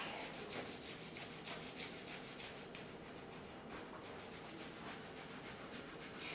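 Flat palms rub briskly over the back during a qigong exercise, producing a continuous close, steady brushing friction with quick repeated strokes and no talking.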